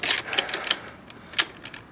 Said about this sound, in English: God damn, my ratchet sucks